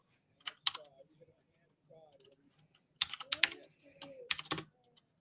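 Clattering keystrokes on a computer keyboard in quick bursts, with pauses between runs of typing and faint background voices.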